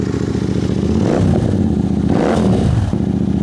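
A Continental GT 650 Twin motorcycle engine revs up twice in deep, throaty surges over a steady close idle, each rise falling back to the idle.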